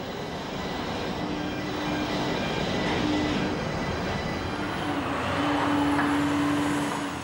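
A container freight train rolls past at close range with a continuous loud rumble and rattle of wagons, thin wheel squeals and a faint brake tone drifting over the noise.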